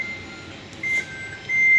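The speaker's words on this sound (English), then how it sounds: "And there's my alarm." Kitchen timer alarm in a home kitchen, sounding as repeated high electronic beeps in short bursts, close and clear over a quiet room, with no talking.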